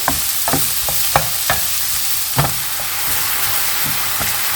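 Mushrooms and onion frying in a pan, a loud, close, even sizzle punctuated by a handful of spaced knocks and scrapes from a stirring utensil.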